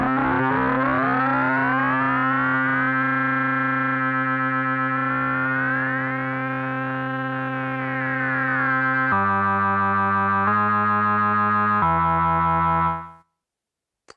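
An Ableton Drift software synth plays sustained chords whose pitch sweeps and warbles as a cycling envelope modulates it, with the ratio slider being adjusted; loud, continuous, electronic tones shifting through several chord changes before cutting off.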